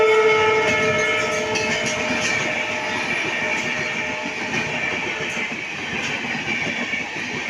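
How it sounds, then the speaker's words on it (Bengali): A high-speed train rushes past at a crossing, a loud continuous roar of wheels and rail noise with tonal squeals, steady and close throughout before easing slightly toward the end. "অ্যানাউন্স করলো যে একটা ট্রেন যাবে, সবাই দূরে গিয়ে দাঁড়ান, মানে এত স্পিডে যাবে"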